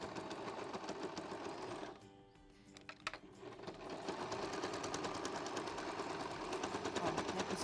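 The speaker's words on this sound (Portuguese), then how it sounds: "máquina doméstica mesmo, calcador de costura reta, e nós vamos costurar aleatoriamente" Domestic sewing machine with a straight-stitch presser foot running steadily through scraps of fabric for confetti-style art quilting, a loud continuous mechanical whirr that pauses briefly mid-way and then resumes.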